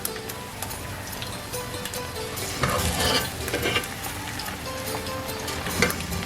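Aloo matar pulao is stirred in a sizzling pan. A steady frying hiss runs throughout, with scraping spoon strokes building into louder bursts near the middle and a clink near the end.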